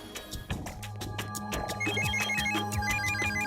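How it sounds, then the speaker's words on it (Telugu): A phone rings with an incoming call in a Telugu action film scene, a bright repeating ringtone pattern that rises and grows steadier over background sound. "చూడ్రా, మీ నాన్న అప్పుడే ఫోన్ చేసేశారు. అటెండ్ చేద్దామా?"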